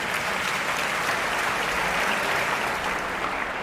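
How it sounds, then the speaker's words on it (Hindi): Applause from an audience at a Hindi kavi sammelan poetry recital, a dense, even wash of many hands clapping at steady volume from start to finish, no voices standing out. "आलोक जी के लिए तालियां"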